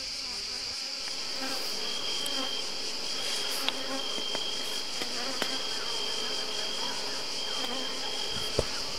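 Honeybees rocking and scrubbing on the face of a hive, a continuous close buzzing drone with a steady high whine and occasional faint clicks, no voices.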